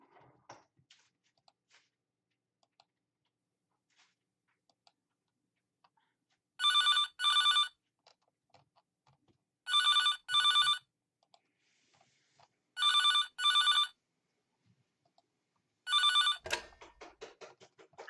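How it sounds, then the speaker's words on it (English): A telephone rings for the night 5 phone call in the Five Nights at Tubbyland video game, with four evenly spaced double-burst rings over near silence, followed by faint clicks. "then night 5 phone call by Evan Jameson"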